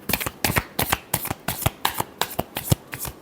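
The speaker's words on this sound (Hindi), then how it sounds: "Last shuffle." Tarot cards being shuffled up close, a run of about ten crisp riffling bursts in a steady rhythm, with no voices.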